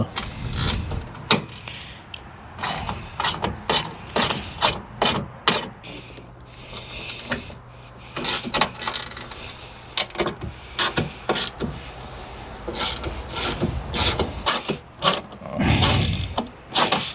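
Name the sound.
ratchet with 10mm socket turning bolts on VW T4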